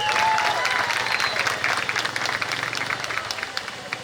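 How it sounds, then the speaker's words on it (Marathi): An audience at an institute event in Miraj bursts into loud, dense applause that starts strong and gradually tapers, with a few voices audible under the clapping. "त्या शिष्यांसाठी एकदा जोरदार टाळ्या होऊ द्या"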